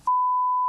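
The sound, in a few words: smoke detector low battery beep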